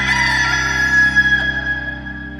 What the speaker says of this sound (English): Just then, a rooster crowed.